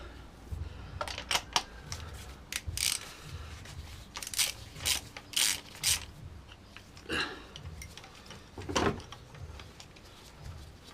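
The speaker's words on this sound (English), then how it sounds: "it's a 5/8 spark plug socket. I'll get these plugs out." Spark plugs come out of a 2013 Vauxhall Corsa D engine under a 5/8 spark plug socket and ratchet, giving a run of short, close clicking and ratcheting bursts with brief pauses between them.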